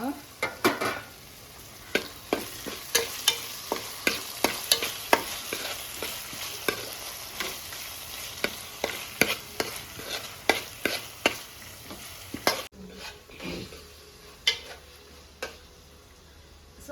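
Tomatoes go into a hot pan for a coastal clam (maruvai) sukka, frying and sizzling steadily while a spoon stirs with repeated sharp scraping clicks against the pan, then the stirring stops and a quieter sizzle carries on alone.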